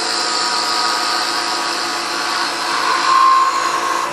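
A power tool whines steadily and close while making a smoothing cut on a wooden acorn ornament, with the pitch rising and the sound swelling briefly near the end.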